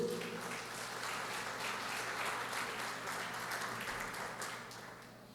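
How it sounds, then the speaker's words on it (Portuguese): Church congregation applauding during a sermon, a dense wash of clapping from many hands heard from some distance, steady and fairly quiet before gradually tapering off. "Amém, aplauda o Senhor Jesus."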